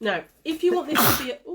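A single sharp sneeze bursts out in the middle of a man's speech, loud and close, with talking before and after it.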